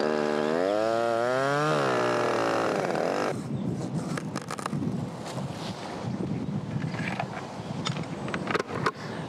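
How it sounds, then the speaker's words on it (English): Chainsaw making a top cut on a tree, at first a loud revving whine that rises and falls, then dropping into a rougher, fainter sawing rumble with scattered cracks as the cut goes through. "Now I can make this top cut with my chainsaw"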